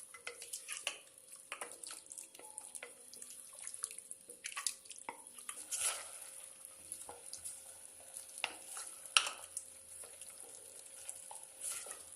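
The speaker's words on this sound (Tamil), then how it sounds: "அந்த எண்ணெயிலையும் மட்டனை வந்து தண்ணி விட்டு வர்ற வரைக்கும் வதக்கிக்கலாம்" Mutton sizzles softly in hot oil while a spoon stirs and scrapes the pan at intervals, for a Madurai pepper mutton curry.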